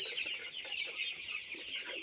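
Chickens at a farm holding about 260 broiler and Sonali birds, a dense chorus of clucking and chattering from many birds, steady and moderately close.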